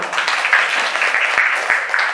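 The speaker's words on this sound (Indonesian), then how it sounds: "Tepuk tangan lagi." Children in a classroom clap their hands together, a steady, dense patter of applause that carries on throughout at close range.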